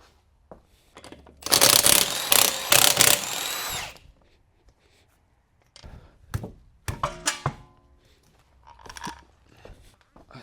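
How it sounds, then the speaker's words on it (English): Power tools work on a car wheel during a BMW B58 engine swap on an F31: a loud, close whirring impact-gun burst, then quieter clanks and rattles of loosened parts, no talk. "We're gonna remove the other wheel"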